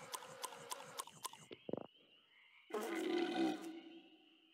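Cartoon frogs croak in the adventure game Lost in Play, with a run of rhythmic croaks and bursts, then a louder, longer throaty croaking call near the end over soft game ambience.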